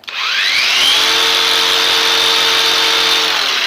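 A battery-powered grinder used for tapping pine resin spins up with a rising whine and then holds a steady, loud, close high-pitched hum for several seconds.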